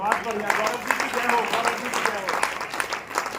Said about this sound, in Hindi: बड़े कवि गौरव चौहान जी की उपस्थिति होती है, उनके सम्मान में एक बार आप जोरदार तालियां।